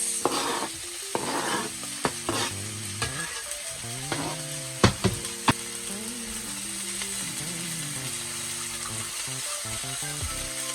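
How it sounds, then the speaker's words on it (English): Onions frying in a pot on a stovetop turned down slightly: a steady sizzle with occasional sharp stirring clicks and scrapes, moderately quiet and close, with no talking. "And then I'm going to add, in the same pot, I'm going to add my onions."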